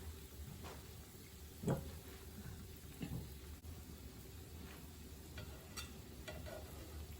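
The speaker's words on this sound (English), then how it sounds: "So cook it, fry it with a medium heat." Risoles frying in oil over medium heat, giving a faint, steady crackle and sizzle with a few soft clicks and bumps of utensils, quiet and close.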